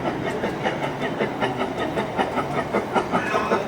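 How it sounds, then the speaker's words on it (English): Garden railway model train rolling past outdoors, a steady rhythmic clatter of wheels over track joints at moderate volume, continuous for a few seconds. "And we'll see the train pass one more time here."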